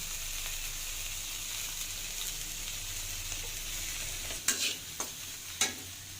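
Vegetable noodles with beans stir-fried in oil at a street stall, a steady sizzle under a few sharp scraping clanks of a spatula near the end.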